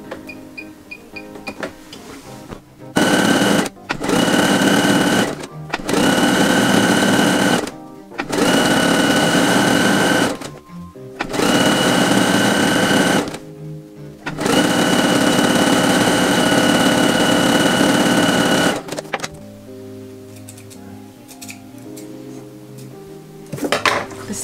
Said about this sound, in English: I will just put on a small narrow zigzag stitch